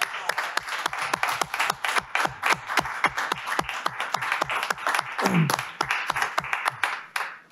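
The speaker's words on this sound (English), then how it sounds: "could we just give another round of applause to a real class act" A small group at a city council meeting in Cleveland Heights claps in a round of applause, with sharp, distinct, rhythmic claps and a brief voice partway through.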